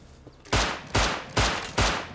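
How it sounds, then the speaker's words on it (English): Gunfire in the survival video game Rust: four loud, sharp bursts spaced about every 0.4 seconds, each with a quick attack and a short fading tail, close and dominant. "Oh, gunshots ahead of us."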